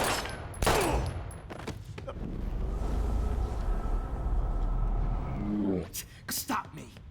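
Gunfire from a weapon in the video game Life Is Strange, with sharp, loud reports near the start and a burst of rapid shots toward the end, separated by a stretch of steady rumbling game noise.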